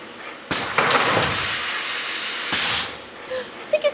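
A shin press squashing the knuckle of a metal glasses frame flat gives two sharp bursts of loud, hissing air release, each trailing into a long steady hiss, followed by a few small clicks near the end.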